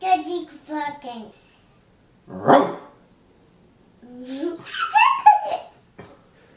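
A man imitates dog barking in a few short bursts, with a voice and laughter around the barks.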